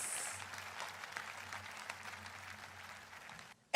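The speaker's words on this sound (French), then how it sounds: "Applaudissez bien fort pour Jésus." An audience applauds at a religious gathering, giving a steady wash of clapping for Jesus that holds for about three and a half seconds at moderate distance, with no voices over it.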